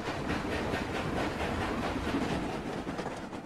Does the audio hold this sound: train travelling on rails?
yes